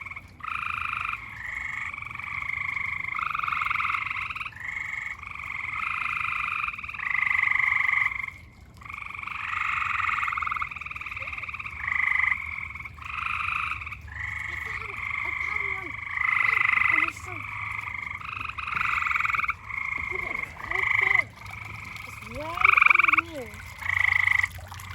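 A loud chorus of tree frogs and toads calls through a summer night in a backyard habitat, rhythmic croaking bursts repeating close by, with a few sharper chirps near the end.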